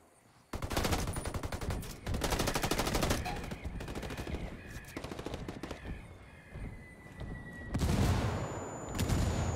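Sustained automatic gunfire fills a round of the tactical shooter Ghost War on PS4, rapid bursts and dense volleys rattling almost continuously with short pauses, fairly loud and close.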